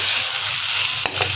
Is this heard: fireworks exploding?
no